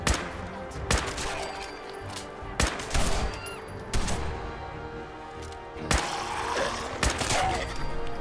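Gunfire in Fallout 4 during a fight with ghouls: several sharp, separate shots a second or so apart over a low, steady background, fairly faint overall.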